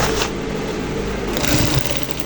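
Sewing machine top-stitching a zipper on senator trousers, a dense continuous mechanical whir up close and fairly loud, with no one talking.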